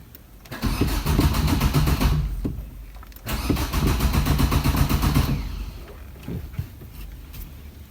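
A car engine cranks repeatedly without catching, in two long bursts of rapid, loud starter churning separated by a brief pause, then fades to quieter intermittent sounds near the end; no one speaks.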